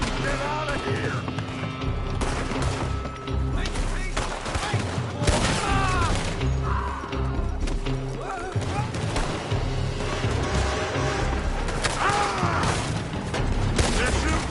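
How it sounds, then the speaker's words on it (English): Gunfire from a shootout in the western game Red Dead Redemption 2, loud dense bursts of shots and thuds throughout, mixed under music and shouted voices. "They're shooting from that building!"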